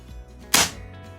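An AEA Element .25 caliber regulated air rifle charged to 3600 psi fires a single sharp, close crack that fades quickly, with quiet ambience before and after.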